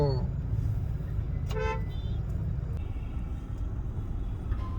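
Road traffic stuck in a jam on the way to a city temple, a steady engine rumble broken by a few short car horn toots, one prominent honk near the middle and fainter beeps later.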